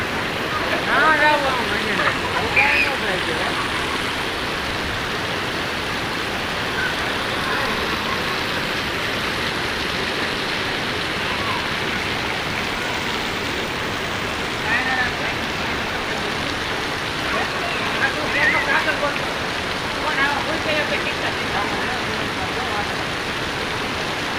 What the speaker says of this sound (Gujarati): ફૂલ વરસાદ ફૂલ એટલે ફૂલ